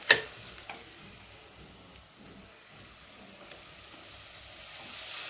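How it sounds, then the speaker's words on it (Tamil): Tomatoes hit hot oil for a bread vegetable biryani, giving a sharp initial crackle followed by a steady, soft sizzle with faint pops, close by and without talk. "எண்ணெய் திரண்டு வந்துச்சுங்களா நம்ம தக்காளியை போட்டுக்கலாம்"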